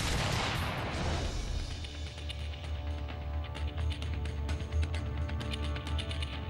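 An M777 howitzer fires a single loud artillery blast at the start, its boom rolling out into a long, rumbling reverberation with scattered crackling debris that persists to the end.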